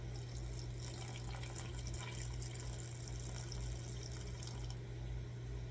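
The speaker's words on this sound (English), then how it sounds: "I'm going to add 100 grams of water." Water is poured in a single steady stream over coffee for a pour-over brew made with an Ecopour, about 100 grams going in. The sound is a continuous soft trickle and splash, quiet and close, running for several seconds under a low background hum.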